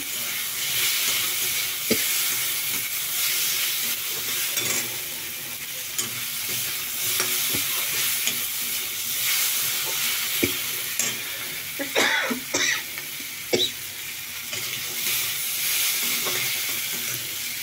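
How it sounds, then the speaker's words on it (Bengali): Potatoes sizzle and fry in a pan, a steady crackling hiss with occasional stirring clicks and scrapes, close and continuous throughout with no talking. "এখন আমি আলুগুলো দিয়ে দিচ্ছি।"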